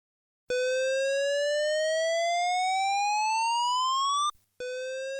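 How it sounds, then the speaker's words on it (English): A building evacuation alarm signal in an office tower sounds as a loud, steady electronic tone that sweeps slowly upward for nearly four seconds, stops briefly, then starts again at its low pitch, with no voices over it. "This is the evacuation signal."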